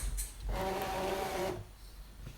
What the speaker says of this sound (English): I'm going to load the machine with my mat